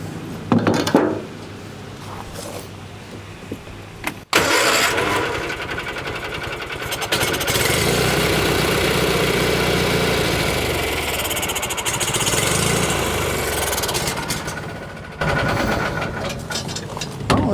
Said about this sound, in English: if the engine's actually running as opposed to turning over on the starter